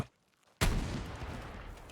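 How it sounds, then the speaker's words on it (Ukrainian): An RPG fires at a vehicle in the video game Battlefield 6, a sudden loud blast after near silence that decays into a long rumbling tail. "скільки буде наносити РПГ шкоди, якщо ми стріляємо в бокову проекцію"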